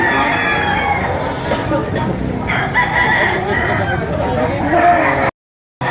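Roosters crow repeatedly at a rainy open-air livestock market in Padre Garcia, Batangas, the calls layered over steady crowd chatter and someone talking, ending in a brief cut to silence.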